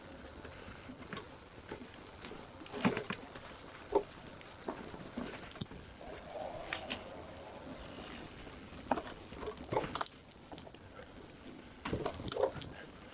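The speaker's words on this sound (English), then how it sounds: "here comes the rain" Rain patters steadily on an outdoor mountain-bike trail, a soft continuous hiss broken by scattered louder taps and knocks, moderately faint and close around.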